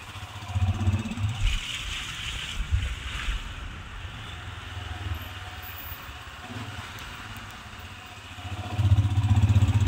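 Motorcycle on a North Sikkim mountain road near Lachung starting and idling, a steady low engine rumble under strong wind noise, growing louder and rougher in the final second.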